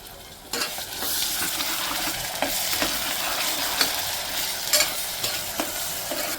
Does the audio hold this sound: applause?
no